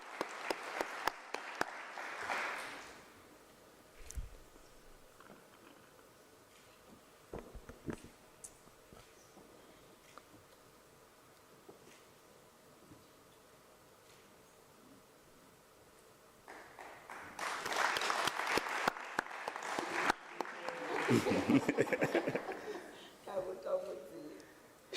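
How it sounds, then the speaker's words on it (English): At a higher-education teaching and learning conference, two bursts of audience clapping are heard, a short one at the start and a longer, louder round later, separated by a quiet stretch with faint shuffling. "Can we give the round of applause as she's presenting the stage?"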